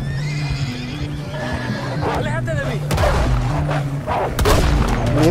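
Horse neighing in Red Dead Redemption 2, a snowy ride where the mare stumbles, heard among game sounds, thuds and gunfire-like booms with talk over it; the whinny shows as wavering tones near the middle of the clip.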